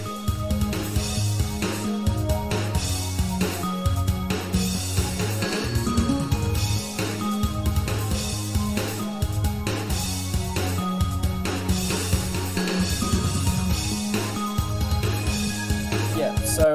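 Arranged Sega Saturn port version of the Batsugun video game soundtrack: full, layered synth music with punchy drums and bass, playing continuously at a steady volume throughout.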